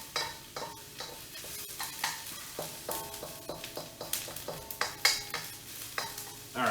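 Onions sautéing and browning in a pan while Mapo Tofu is being made, with a steady sizzle and repeated sharp scrapes and clatters of stirring close by, alone without voices.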